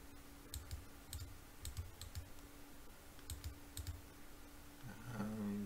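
Mouse and keyboard clicks during Diablo III play, quick faint taps coming in small bursts with short pauses, over a low hum, with a brief louder tonal game sound near the end.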